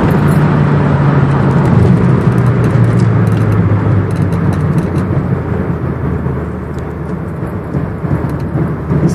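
Mazdaspeed Protege accelerating flat out in fourth gear, a loud, dense engine roar with a tone that climbs and then fades slightly, heard alone and close.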